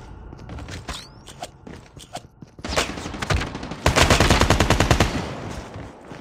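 Call of Duty gameplay with AK-47 fire: scattered single shots and footsteps build into long, loud rapid-fire automatic bursts, close and dense.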